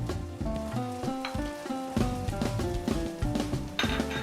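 Turmeric and chili powder frying in hot oil, a steady crackling sizzle close by, with music playing over it.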